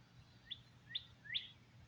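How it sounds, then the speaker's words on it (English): Three short, bright bird chirps, evenly spaced and rising slightly in strength, over a faint low background hum. "Pay attention to the birds."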